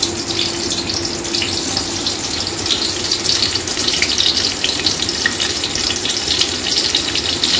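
Onions going into hot white oil in a pot for chicken kabsa rice give a steady, dense sizzle that holds at an even level throughout, with no voices.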